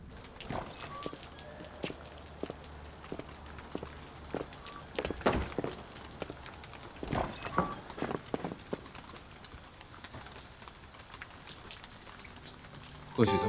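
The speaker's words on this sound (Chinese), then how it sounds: "外头在下雨呢。" Rain falls outside, a soft, steady patter of drops on surfaces with scattered irregular taps, heard quietly and at a moderate distance.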